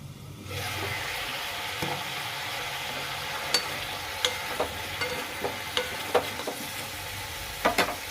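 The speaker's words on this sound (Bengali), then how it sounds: "একটু এটা ভাজা ভাজা হোক।" Vegetables fry in hot oil in a pan with no water added, a steady close sizzle running throughout, broken by a few sharp clicks of a utensil against the pan, and no voices.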